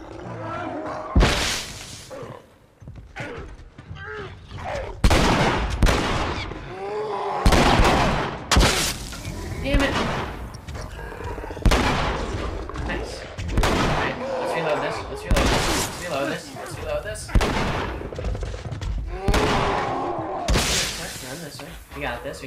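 Gunfire in The Last of Us during a zombie boss fight, sharp loud shots cracking out irregularly over about twenty seconds, mixed with growls and other game noise, while people talk over much of it.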